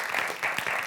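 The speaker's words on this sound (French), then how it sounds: "On peut l'applaudir, Jean-Jacques." Studio audience applause on a French TV quiz show, a brief burst of dense clapping at moderate level with a faint voice underneath.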